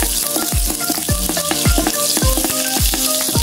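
Garlic and onion sautéing in a pan for a Filipino dish of coconut-milk papaya with anchovies, a steady close sizzle with repeated stirring scrapes roughly twice a second, no talk.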